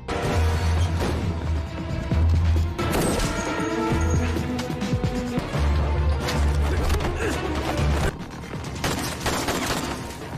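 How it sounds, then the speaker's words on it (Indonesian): An action film scene is filled with rapid bursts of gunfire, dense overlapping shots and crashes from a firefight inside a building, loud and nearly continuous, with rumbling low impacts and a voice under the shooting. "sambil dihujani peluru, Diao berusaha meminta tanda tangan menteri"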